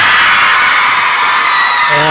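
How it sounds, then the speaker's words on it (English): A packed gym crowd at a high school girls' volleyball match roars loudly and continuously, with whoops and shouts blending into a dense wall of cheering. "There is a roar of the crowd there."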